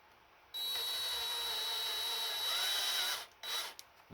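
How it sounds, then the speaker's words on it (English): A power drill whines steadily, close and loud, boring out a broken bolt in the engine block of an 1987 Mercury Cougar with 375k miles, then stops, followed by a brief restart and a few clicks. "I add a little bit of speed to get past whatever that bump is."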